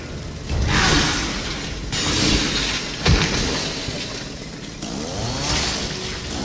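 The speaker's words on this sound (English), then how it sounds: "Whoa, why does he have a huge chainsaw?" An enemy's huge chainsaw roars in Resident Evil 7 VR, loud and close, revving in harsh surges with grinding, shattering crunches and a sharp impact midway.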